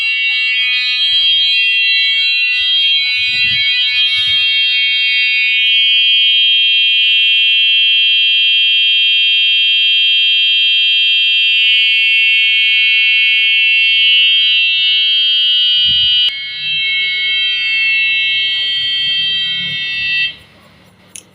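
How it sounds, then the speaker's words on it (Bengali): Shrill, continuous electronic alarm from a cattle anti-theft device on a small farm blaring loudly for about twenty seconds, briefly changing tone near the end before cutting off, with faint sounds beneath. "দেখতে পাচ্ছেন আবার কিন্তু অ্যালার্ম বাজলো"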